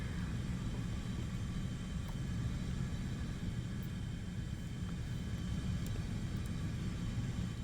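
A jet aircraft in flight in War Thunder gives off a steady, unbroken engine roar and rumble that stays loud and constant throughout.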